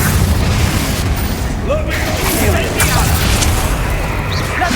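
A Confringo blast spell fires in Hogwarts Legacy combat: loud, dense booming rumble with bursts and crackle throughout, and voices mixed into the game noise.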